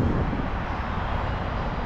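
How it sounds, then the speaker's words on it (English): Aircraft roar steadily overhead in Nashville at night, a loud continuous engine rumble with no breaks and no talking. "there's helicopters and everything else flying around here"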